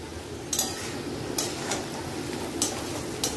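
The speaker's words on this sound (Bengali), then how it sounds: "হালকা করে এবারে নাড়াচাড়া আমি করতে থাকবো।" Fish curry with salt and turmeric is stirred in a pan, a spoon knocking and scraping against the metal four times over a low, constant cooking hiss.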